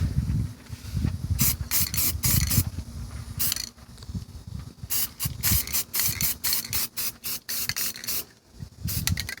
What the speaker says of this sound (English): this is with the high performance Rust-Oleum spray